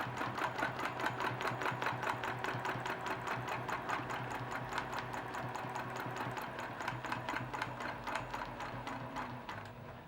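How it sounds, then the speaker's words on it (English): A sewing machine does free motion quilting, stitching down with a steady, rapid mechanical chatter of needle strokes that runs continuously at moderate level, with no talking. "We're going to stitch down."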